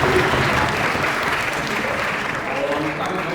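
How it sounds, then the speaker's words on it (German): Sustained audience applause fills a hall at an award show for a science mystery challenge, steady dense clapping throughout with a voice speaking over it. "Ja, einmal Applaus."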